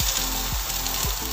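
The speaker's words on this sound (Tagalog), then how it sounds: "Para siya igigisa ko dito sa tirang adobo." Leftover adobo sautéing in a frying pan gives a constant close sizzle, broken by soft stirring scrapes roughly every half second.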